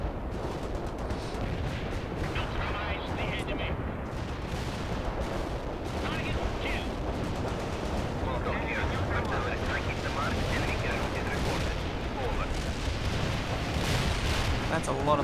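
An artillery barrage in the video game World in Conflict produces dense, continuous rumbling blasts and crackling gunfire that overlap without pause, loud and sustained throughout.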